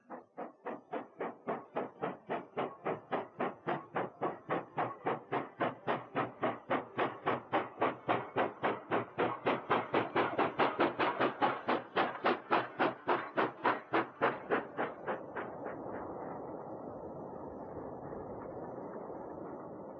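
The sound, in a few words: freight train climbing with a banking locomotive at the rear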